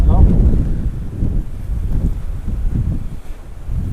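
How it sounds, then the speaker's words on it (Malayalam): Steady, loud wind buffets the microphone throughout at a scenic spot in Kollam district, Kerala, a low rumbling roar with gusty surges and no clear voices. "കാറ്റ് നല്ല കാറ്റുമുണ്ട് ഇവിടെ"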